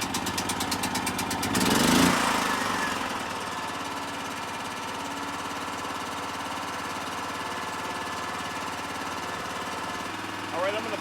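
A pull-start portable generator coughs to life after a loud surge near two seconds, then settles into a steady mid-pitched engine drone that runs on evenly, with a brief rise near the end.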